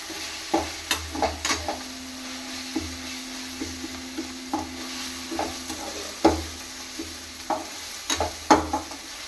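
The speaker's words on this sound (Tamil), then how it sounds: "அது கொஞ்சம் வதங்கட்டும் அது ஃபுல்லாக எல்லாம் நல்லா படுற மாதிரி நல்லா வதக்கி விட்டால் போதும்" Chicken sukka masala being sautéed in a pan: a soft background sizzle punctuated by frequent short scrapes and taps of a spatula stirring, fairly close but moderate in level.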